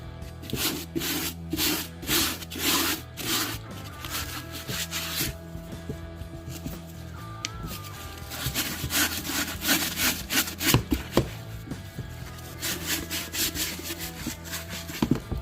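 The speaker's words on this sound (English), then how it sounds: "So I gotta scrub a little harder to make it come out." Red Wing steel toe leather boots, size 11.5, get a hard scrub to lift deeply embedded grease: a brisk, rhythmic back-and-forth rasping of brush strokes, close and steady with brief pauses, and no voices.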